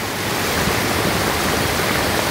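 A swollen river on the verge of flooding rushes past close by, a loud, steady broadband roar of churning water with no talk over it.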